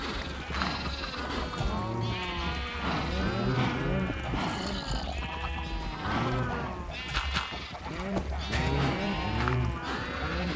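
Cows in the Minecraft video game moo and low repeatedly in a dense, overlapping herd chorus, loud and continuous over a steady background hum, with animal calls filling the whole stretch.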